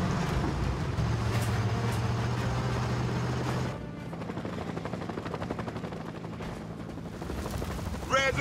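An enemy helicopter in the video game Battlefield Bad Company drones with a steady low rotor thrum amid ongoing battle noise, the tone shifting partway through as the craft passes.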